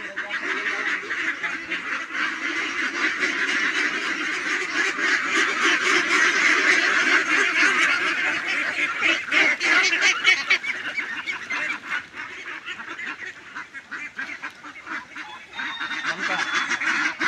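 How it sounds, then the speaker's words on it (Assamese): A flock of nineteen ducks near a pond keeps up a loud, continuous chorus of overlapping quacks and honks, swelling in the middle and thinning slightly toward the end. "ইয়াত দেখিবলৈ পাইছোঁ 19টা হাঁহ আছে।"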